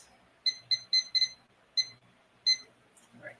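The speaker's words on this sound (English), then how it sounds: "Timer for 10 minutes." A kitchen timer beeps in short, sharp, high electronic bursts, about seven irregular pips close by in a quiet kitchen.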